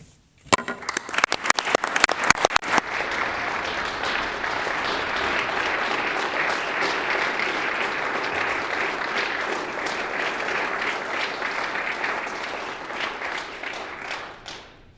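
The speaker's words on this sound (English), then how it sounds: "I would ask my colleagues to join me in applauding their effort" Sustained applause from a large group fills a legislative chamber, starting with a few sharp claps and settling into steady clapping that gradually fades near the end.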